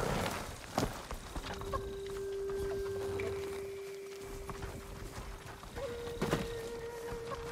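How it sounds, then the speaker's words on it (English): Horses walking in Ghost of Tsushima, a few soft hoof clops spaced apart over a quiet ambient bed with a held musical tone and occasional sharp clacks, no talking. "Follow those horses."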